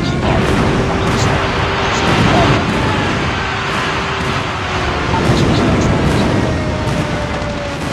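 Friendly airstrike explosions in the Arma 3 video game during a ranked match: dense, continuous rumbling blasts and booming fire that roll on steadily throughout, loud and close, with no gaps of quiet.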